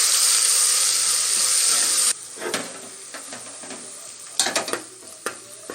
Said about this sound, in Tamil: இப்போ நம்ம 1 ஸ்பூன் அளவு இஞ்சி பூண்டு பேஸ்ட்டு சேர்த்து விட்டுடலாம்.